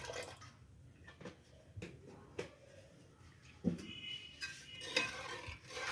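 A spoon stirs a chilled almond milk drink with added rose water, making soft, faint clinks and liquid swishes against the vessel in a quiet room.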